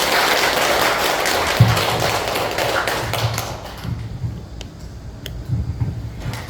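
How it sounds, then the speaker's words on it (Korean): Audience clapping at a Buddhist dharma gathering, a dense burst of applause that is loud at first and then thins into scattered claps with a few soft thuds before trailing off. "다시 한번 큰 박수 부탁드리겠습니다"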